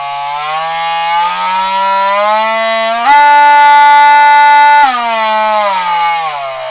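A 12-volt ALDI Workzone cordless oscillating multi-tool runs loud and steady, its whining motor pitch climbing, jumping higher around the middle, then dropping back as it steps through its speed settings, with no one talking.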